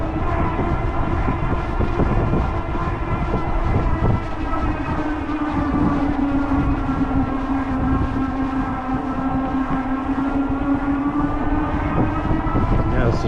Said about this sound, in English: You can hear the motor. There's a whine there.